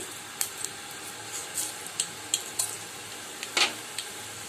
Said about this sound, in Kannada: ಸಾಸಿವೆ ಜೀರಿಗೆ ಚೆನ್ನಾಗಿ ಚಟಪಟ ಸಿಡಿದ ಮೇಲೆ